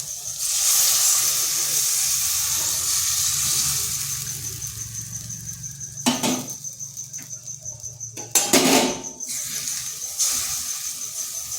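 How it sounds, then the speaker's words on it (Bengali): Batter-coated potatoes stirred in a hot kadai, a loud hissing sizzle that fades, then a few sharp scraping knocks of the spatula against the wok. "এরপর এটাকে কড়াইয়ের মধ্যে শুকনো করে নিতে হবে এইভাবে নেড়ে নেড়ে কিন্তু এটা অনবরত নাড়তে হবে"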